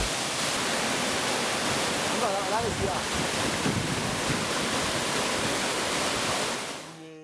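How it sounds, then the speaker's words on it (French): The largest waterfall in Togo, deep in the forest, gives a steady, loud, broadband roar of falling water that holds constant for about seven seconds before fading at the end. "devant la cascade la plus importante du Togo, une pure merveille de la nature, perdue au plus profond de la forêt."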